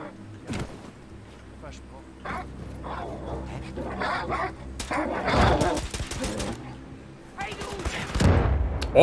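Rapid bursts of gunfire from an explosive pistol in the video game Wolfenstein II, several sharp loud shots clustered in the second half, mixed with a dog barking and a person talking over the action.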